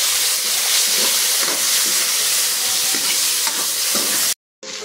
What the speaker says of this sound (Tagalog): igisa na natin yung bawang at sibuyas. Medyo lang guys, i-golden brown lang natin ng konti. Lagay natin yung tofu.